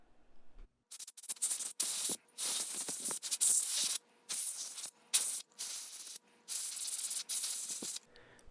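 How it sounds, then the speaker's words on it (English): Canned air blasting in a series of loud hissing bursts, about a dozen in quick succession with short gaps, clearing out the valve assembly of a Coleman Model 425 camp stove up close. "I blow everything out with canned air."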